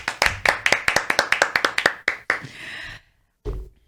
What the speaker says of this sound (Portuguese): Salva de palmas pro Halo.